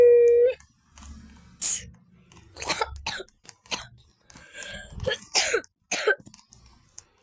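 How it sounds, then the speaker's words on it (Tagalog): Several harsh coughs and throat-clearing bursts come in uneven clusters, close and fairly loud, after a brief tone at the start. "Inuubo na ako."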